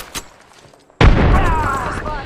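Gunfire in the battle royale game Apex Legends: after a quiet moment, a sudden loud blast breaks into sustained close-range shooting with a booming low end, under a faint voice.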